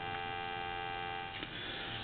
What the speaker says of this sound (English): We have dial tone.